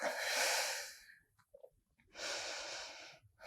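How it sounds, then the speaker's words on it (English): Two long, deep breaths taken during a yoga hip-opening pose, a full audible inhale-exhale, a pause with soft faint sounds, then another strong breath, close and alone with no talk. "Deep breath."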